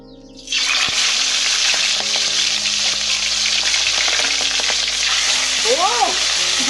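Loud, steady sizzling of fish frying in hot oil starts abruptly and crackles continuously, with a faint voice briefly rising near the end.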